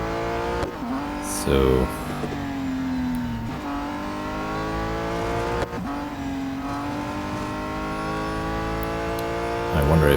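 Racing car engines in Real Racing 3 during a BMW M4 GT4 race: several engines drone and rise and fall in pitch as gears change, with a few brief louder bursts, under someone talking.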